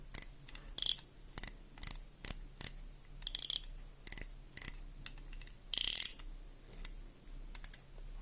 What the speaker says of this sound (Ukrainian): Фрикціон працює. Доволі тихо.